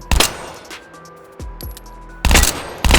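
A burst pistol in the H3VR game fires sharp, loud bursts near the start and end, with clicks and metallic handling noises between the shots and no voices.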